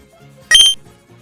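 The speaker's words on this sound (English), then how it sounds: "the boomer sound effect is actually the blip sound you hear when pressing A at menus in GBA Pokemon games" A short bright electronic blip, the slowed boomer sound effect from the Fantastic Frontier video game that matches the GBA Pokemon menu press tone, sounds once as a loud, close beep of about a quarter second over a faint background.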